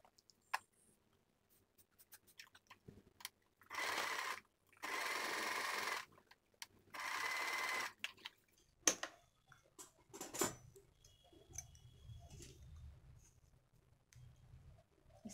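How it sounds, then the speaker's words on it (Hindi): A sewing machine stitches blouse fabric in three steady, close runs of a few seconds each with short pauses between, while birds call faintly in the background. "अब इस तरह इसको सीधा करके ऊपर से इसके सिलाई लगा लेंगे।"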